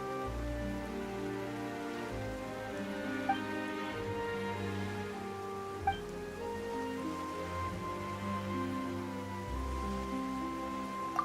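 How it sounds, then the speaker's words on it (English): Rain falls in the video game Genshin Impact as a soft, steady patter and hiss under a sustained musical drone, with no voices. "Why is it raining all of a sudden?"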